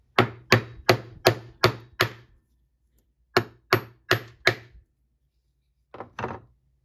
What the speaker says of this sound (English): I'll probably hammer that a little bit just to get it flat